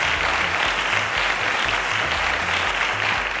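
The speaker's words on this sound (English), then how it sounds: "A round of applause for Luachem." Loud, continuous studio audience applause on a school quiz show, with many hands clapping steadily over low background music.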